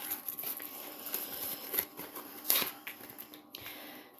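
Rustling and crinkling of a plastic craft package being opened to reach small gold foliage embellishments, a run of soft, close handling crackles with a sharper crinkle burst partway through, no voices.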